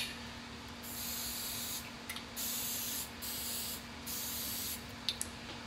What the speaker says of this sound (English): I'm going to use some muffin spray to get the rest of these muffins in the oven.